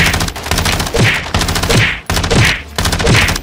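Repeated bursts of automatic gunfire in the Warzone video game, loud and close, arriving in four rhythmic rattling volleys with brief gaps between them.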